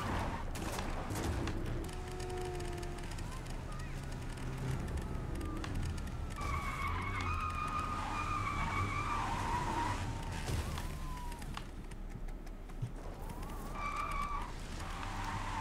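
Car driving and skidding in the video game Just Cause 4, with continuous engine rumble, tire squeals and sliding tones rising and falling, plus scattered impacts and game effects throughout.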